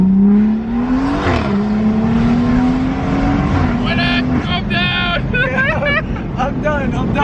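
A 500hp BMW 440i pulls hard at high speed, its engine note rising steadily in pitch under a continuous loud rush of road and wind noise, while people talk excitedly over it inside the cabin.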